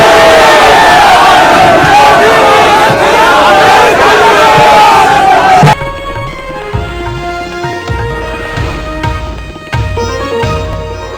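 A large crowd roars and cheers at a Rahul Gandhi political rally in Patna, loud and sustained with mixed voices, then gives way abruptly to music.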